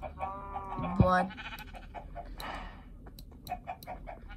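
A chicken in the video game Minecraft gives a short cluck-like call near the start, followed by scattered game clicks and faint background sounds, with a brief spoken word.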